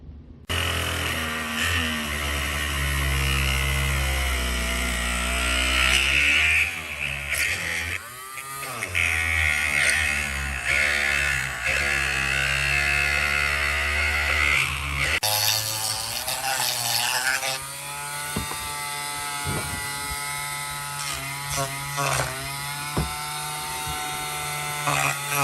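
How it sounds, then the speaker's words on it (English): A Ryobi rotary tool cuts openings into the lid of a portable battery box, giving off a loud, steady high-pitched whine that wavers in pitch as it bites, running continuously throughout. "I'm going to use this Ryobi Dremel tool here to cut that down."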